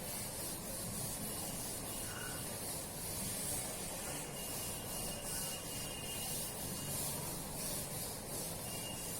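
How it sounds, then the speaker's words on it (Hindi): An eraser rubbing out handwritten numbers, a steady close scratchy friction with no pauses, fairly quiet. "इसको मैं रब कर देती हूँ."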